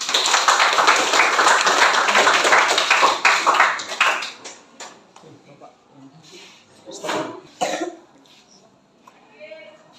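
A classroom of students claps for a classmate, a dense, loud burst of applause lasting about four seconds before it fades out, followed by scattered quieter sounds and brief voices.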